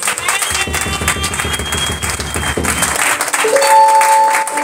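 A church congregation at a Sunday service applauds, a dense patter of many hands clapping that fades out near the end as a sustained organ-like tone enters.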